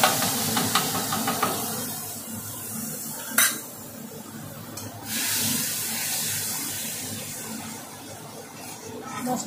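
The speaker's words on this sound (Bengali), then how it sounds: "এখানে পেঁয়াজটা কালো জিরেটা ভেজে নিচ্ছি" Onion and nigella seeds frying in hot oil in a pan for a fish curry, a steady close sizzle and hiss with occasional stirring scrapes and a couple of sharp utensil knocks.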